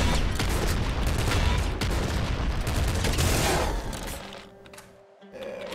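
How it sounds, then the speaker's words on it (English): Super Splinter Gun fired in a video game, a dense rapid volley of gunfire that stays loud for about four seconds before cutting off, followed by quieter game sounds and a low steady hum. "I'm gonna take Super Splinter Gun."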